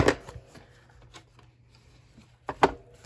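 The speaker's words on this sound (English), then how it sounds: "Go ahead and start folding that in." Paper is folded and creased for a handmade altered composition-book journal, with two crisp rustling bursts, one at the start and one near the end, and quiet handling between them.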